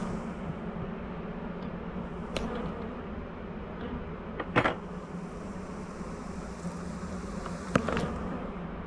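Honeybees swarm around an open hive during a farm inspection, making a dense, continuous buzzing hum close by, with a few brief handling clicks and knocks.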